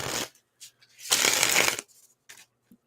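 Oracle cards are shuffled by hand in short riffling bursts, with one long rustle in the middle and quiet gaps between them, close and crisp.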